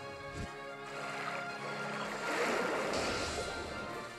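Water Z-move attack in the Pokémon Ultra Moon video game, a rushing, surging wash of water building to a roaring peak and then subsiding, layered over steady synthesized game music.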